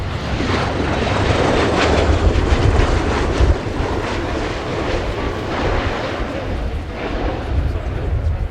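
A United States Air Force CV-22B Osprey tiltrotor with 11.6-metre rotors flies a display at RIAT 2019, a loud, sustained rumbling engine and rotor roar that swells and fades, with a commentator's voice heard over it.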